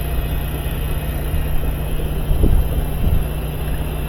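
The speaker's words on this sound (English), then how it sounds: "You see the tub spinning in there." The replacement motor in a GE washer spins the tub with a steady low hum and a whooshing rumble that holds at an even level, with a couple of soft thumps partway through.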